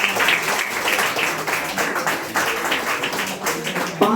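Audience applause for teachers at a coaching centre celebration, steady dense clapping from a crowd throughout, close and fairly loud with no talk over it.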